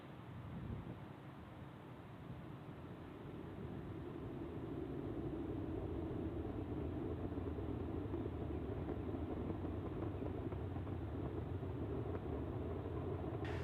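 SpaceX Falcon 9 climbing away from Launch Complex 39A at Kennedy Space Center produces a steady, distant low roar and rumble that builds slightly in the first seconds and then holds constant and unbroken.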